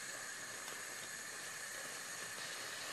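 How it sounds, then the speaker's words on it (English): Steady, even sizzling hiss of vegetables frying in a hot pan, constant and close, with no talking. "Okay, that's already sizzling"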